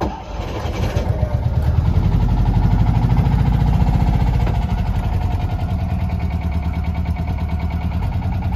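A restored 1971 Fiat 500 L's small engine is started with a pull lever and no choke. It cranks and catches, then settles into a loud, close, steady running putter.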